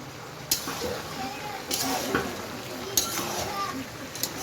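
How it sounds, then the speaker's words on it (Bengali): Meat, chicken, being sautéed with garlic in a pan: a steady sizzle with sharp spoon clinks and scrapes against the pan at intervals, heard close up. "দেখতে পাচ্ছেন যে মাংসটা কষানো হচ্ছে"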